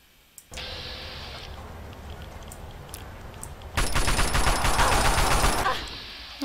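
Gunfire in Fallout 3, The Pitt add-on: a short burst of sharp shots, then a longer, loud rapid volley of automatic fire lasting a couple of seconds before stopping.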